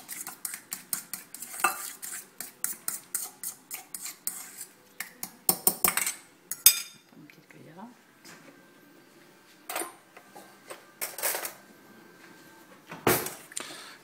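Egg yolk mashed into mayonnaise in a bowl for stuffed eggs, stirred with a spoon that clinks and scrapes in quick repeated strokes, close and fairly loud, with a brief voice in between.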